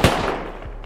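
A gunshot fires in the survival game Rust, a sharp loud crack at the start that decays into a ringing tail over under a second, with no talk.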